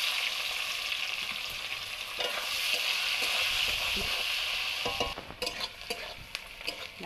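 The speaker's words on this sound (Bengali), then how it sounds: "পেঁয়াজটা আমার ভাজা হয়ে গেছে।" Onions fry in a pan of oil with cardamom, cinnamon, cloves and bay leaves, making a loud, steady sizzle up close, with stirring clatter and scraping becoming more prominent in the last couple of seconds.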